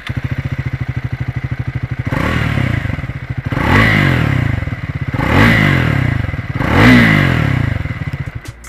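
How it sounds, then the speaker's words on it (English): A Triumph Speed 400 motorcycle idles with a steady thumping exhaust, then the engine revs up three times in short bursts, each rising and falling back to idle. "I'm going to let the exhaust talk here."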